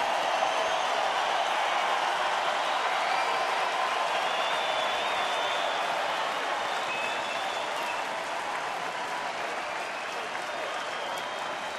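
A crowd of about 22,090 at a night baseball game between Seattle and Detroit roars steadily, a dense sustained wash of cheering and clapping that holds loud throughout with only a slight easing toward the end.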